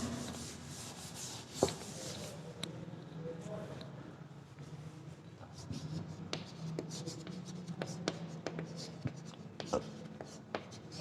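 Writing on a board during a Class 11 physics lecture on thermal properties of matter: quick scratchy, tapping strokes come in bursts under a teacher's continuous speech.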